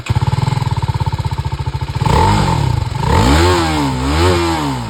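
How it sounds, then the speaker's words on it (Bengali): A TVS Apache RTR 310 motorcycle exhaust thumps in a steady loud idle pulse up close, then rises into revs that climb and fall twice. "এর এক্সজস্টটা কত সুন্দর সেটা আপনাদের শোনাই"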